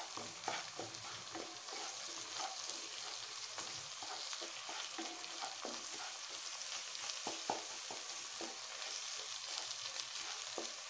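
Egg fried rice with tomatoes and pepper sizzles steadily in a hot pan, a close, continuous frying hiss broken by repeated scraping stirs of a spoon.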